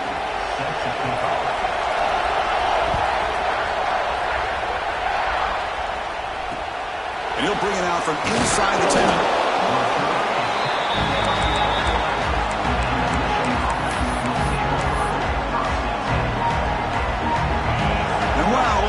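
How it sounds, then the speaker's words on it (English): Loud, constant stadium crowd roar under an excited commentator's voice, swelling briefly partway through. "Listen to this crowd noise. This stadium is vibrating."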